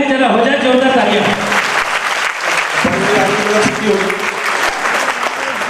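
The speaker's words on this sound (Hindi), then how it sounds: "जरा हो जाए जोरदार तालियां।" Loud crowd applause at a West Bengal theatre event, dense and continuous, with voices calling out and cheering over the clapping near the start.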